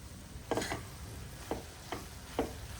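A spoon stirs spices, turmeric, coriander-cumin powder, red chili and lemon juice, into corn chevdo in a pan, giving four soft, spaced scraping strokes over a quiet background hiss.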